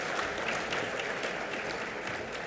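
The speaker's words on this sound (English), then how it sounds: "in my speech, it says pause for applause" Applause from a Chamber of Commerce parliamentary luncheon audience, a steady, even patter of many hands clapping throughout, moderately distant and fairly quiet.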